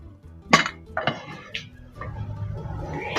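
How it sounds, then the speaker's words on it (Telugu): Metal clanks as a lid goes onto a pressure cooker holding chicken curry: a few sharp clinks and knocks, close and fairly loud, with a low rumble underneath. "పప్పు కుక్కర్కి మూత పెట్టుకోవాలండి."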